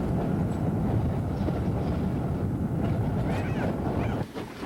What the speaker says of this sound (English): the special waits in the siding to let a northbound passenger train pass